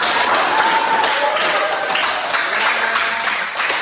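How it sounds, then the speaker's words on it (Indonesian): Applause for student groups in a classroom, steady and dense clapping from many hands that continues at an even level throughout. "sekali lagi aplaus untuk kalian semua"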